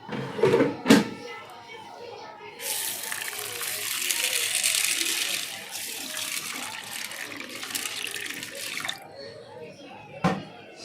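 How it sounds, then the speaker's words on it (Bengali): Red lentils and chickpea lentils being rinsed in water for soybean pakora: a tap runs steadily with splashing and sloshing through the middle, framed by brief handling knocks and a short voice. "ডালগুলোকে, মুসুরির ডাল আর ছোলার ডালগুলোকে ভালো করে ধুয়ে নিলাম।"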